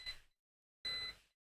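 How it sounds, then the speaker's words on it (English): An alarm sounds two separate electronic beeps, each a short bright tone burst, with a clear silent gap between them, fairly faint and with no voices around it. "Alarms are going."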